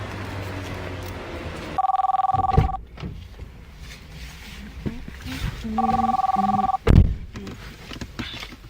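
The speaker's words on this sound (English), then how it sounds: "Who is calling my phone?" A mobile phone rings in two repeated electronic tone bursts separated by a gap, with thumps and background noise between them.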